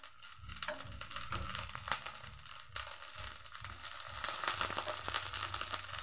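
Eggplant frying in a pan over a high flame, giving a steady crackling sizzle with scattered pops and clatter that rises slightly toward the end; no speech.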